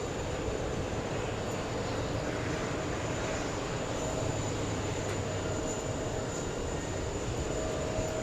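Aeromexico airliner from Mexico City arriving at JFK airport, a steady broad engine roar that holds constant and fairly loud throughout, with no voices.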